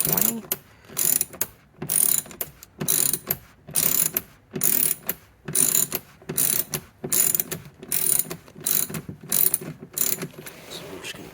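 Torx T20 screws on a BMW E90 door panel being turned out by hand with a ratcheting driver, giving repeated short bursts of clicking about once a second, close and clear with no talk.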